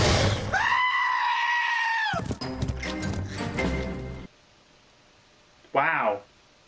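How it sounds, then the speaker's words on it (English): A screaming goat from a viral clip lets out a long, loud, human-like yell, followed by several shorter bleating cries, a silent pause and then one final sharp scream. "The screaming goat."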